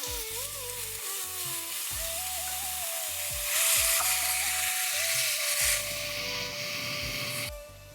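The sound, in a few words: soaked urad dal frying and sizzling in a pan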